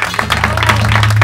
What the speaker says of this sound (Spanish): Y ahora recibamos con un fuerte aplauso al responsable de todo este circo, Antonio Castelo